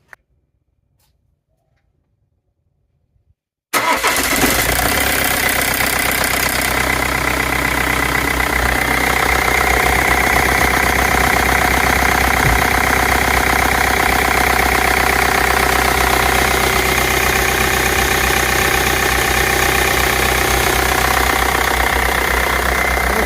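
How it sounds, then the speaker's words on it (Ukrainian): After a few seconds of silence, a BMW 320d E46 diesel engine starts abruptly and settles into a steady, loud idle with a clattering knock, running continuously up close. "можемо пробно запустити двигун, подивитись на його рух"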